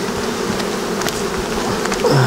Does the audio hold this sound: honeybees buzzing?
yes